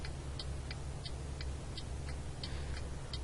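Steady electronic ticking of hazard lights, evenly spaced clicks repeating about three times a second over a low engine hum.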